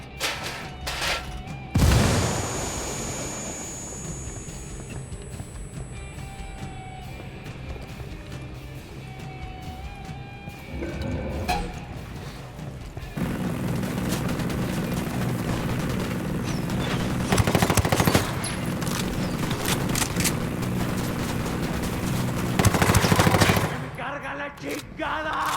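A grenade blast and bursts of automatic gunfire in the video game Ghost Recon Wildlands, with a sharp loud detonation early on, then sustained rattling fire and further heavy bursts near the end, all dense and close.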